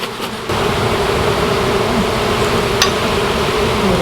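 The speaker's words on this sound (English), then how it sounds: "these bees may even go airborne or something" Honey bees buzz as a dense, steady drone from close by in hot weather, a continuous hum that swells slightly after a brief quieter start and holds for several seconds with no talking.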